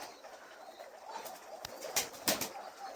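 Pigeons feed close by, with soft pecking and rustling, a few quick wing flaps and faint cooing in a quiet setting. Two brief louder bursts of movement come near the end.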